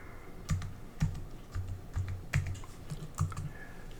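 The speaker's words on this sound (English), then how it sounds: "Type in the password." A password is typed on a computer keyboard, with about ten distinct, close key clicks in an uneven rhythm, some grouped in quick pairs, heard alone in a quiet room.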